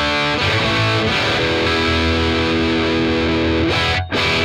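Les Paul electric guitar played through a Marshall amp with a little reverb, a distorted, sustained chord and note sequence ringing loud and close before a brief cut-off.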